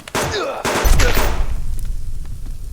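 Shotgun blasts in a survival video game: a loud, close burst of gunfire with sharp reports and a booming low tail that fades into rumbling reverberation, no talking over it.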